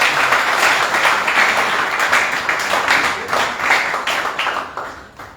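A congregation at a Sunday prayer service in a Dubai church claps to welcome the pastor, loud and close, with rhythmic pulses of many hands that tail off toward the end.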